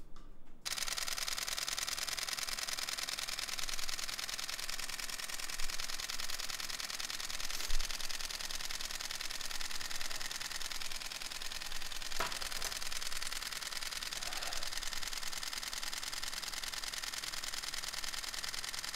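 A Canon EOS 7D Mark II DSLR fires a rapid, unbroken stream of shutter clicks in continuous burst mode, a fast machine-gun rhythm, close and steady for the whole stretch.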